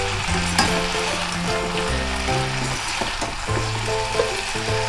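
Potatoes and soaked soybeans sizzle and get stirred in a pan while making Hyderabadi veg dum biryani. There is steady frying crackle with occasional scrapes, and background music plays throughout.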